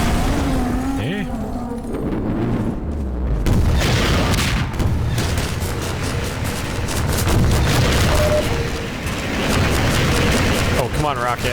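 A rocket blast in a VR shooter game, heavy booming explosions and crackling debris mixed with gunfire-like bangs, loud and dense across the scene, with a person talking over parts of it.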